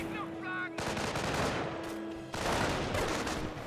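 Rapid bursts of MG42 machine-gun fire crackle through a Company of Heroes battle, continuous and dense with a brief pause before a fresh loud burst; a voice talks faintly underneath.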